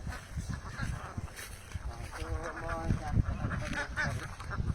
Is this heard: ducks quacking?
yes